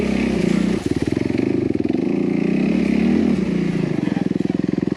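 A Honda CRF250R dirt bike engine runs up close and loud during a ride, with a rapid, pulsing single-cylinder drone that rises and falls as the throttle varies, continuous throughout.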